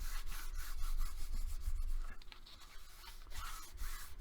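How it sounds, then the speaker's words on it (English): Paper hinges being rubbed by hand into the gusset of a handmade Baby Dreams mini album, a steady close dry rubbing and scuffing that continues throughout with slight pauses, no talking. "I just start rubbing in between the hinges in the gusset to make sure it attaches"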